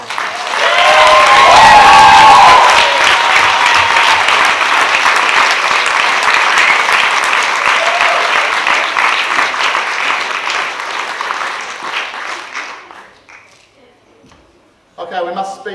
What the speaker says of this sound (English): So their award is your applause